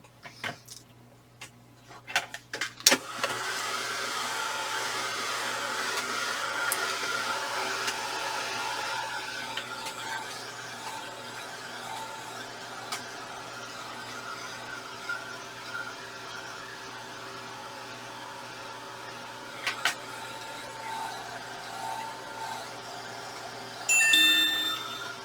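A heat tool or hair dryer blows a steady whooshing stream over wet paint on a cardstock scrapbook layout, running continuously for over twenty seconds after a few handling clicks at the start.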